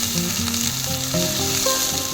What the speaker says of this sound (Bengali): দিয়ে এটাকে ভালো করে লাল লাল করে ভেজে নেব।